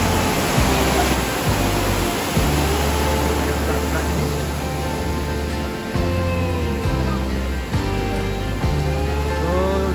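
Shallow river flowing past a busy campsite at GIBS EcoTourism Resort in Ulu Yam, giving a steady, close rushing wash throughout, with faint voices and tonal sounds drifting underneath.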